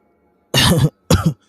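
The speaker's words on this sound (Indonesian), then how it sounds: "lalu batuk berat" Two heavy, rough coughs in quick succession, close and loud, with silence around them.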